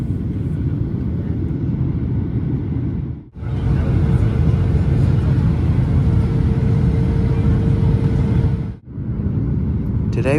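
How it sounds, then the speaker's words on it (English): Cabin of a Rex airliner on approach and landing at Gold Coast Airport, runway 32, filled with a loud steady low roar of engines and airflow that briefly dips twice before resuming. "Today we are landing on runway 32 at Gold Coast Airport"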